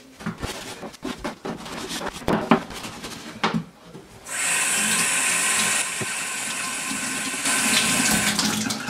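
Tap water runs steadily into a sink to rinse off a freshly scrubbed item, following a stretch of rubbing and handling sounds, loud and close with no voices.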